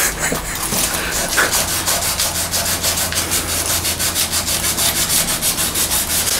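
Fine 1500 grit luthier sandpaper rubs over an old guitar finish in quick, regular back-and-forth strokes, a close, loud scratchy swish repeating evenly with no talking.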